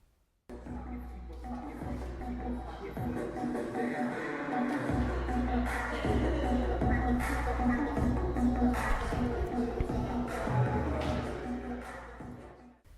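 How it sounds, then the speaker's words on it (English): A busy indoor art studio hums with overlapping murmured voices, shuffling, and scattered clanks and taps, a steady room-filling din. "That's the sound of the bustling studio in action."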